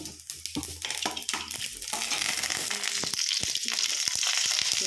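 Mustard seeds popping and crackling in hot oil for a home-cooked lentil dish, a dense, steady sizzle with quick sharp pops throughout, close and loud.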